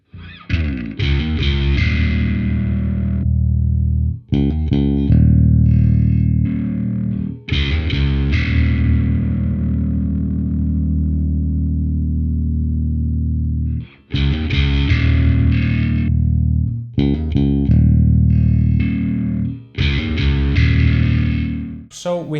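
Heavily distorted bass tones run through a Microtubes X Ultra bass preamp, with long sustained, buzzing notes and chords broken by short pauses and quicker plucked bursts, loud and close throughout.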